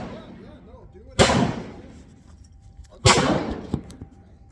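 Two loud, sharp pistol shots from a 30 Super Carry firing Lehigh Xtreme Defense rounds, spaced about two seconds apart, each followed by a brief echoing decay over quiet background noise.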